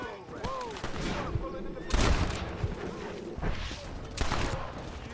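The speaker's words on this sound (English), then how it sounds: "Hear gunshots." Bursts of gunfire in Red Dead Redemption crack and boom in several volleys over a busy, noisy background, with a voice speaking intermittently.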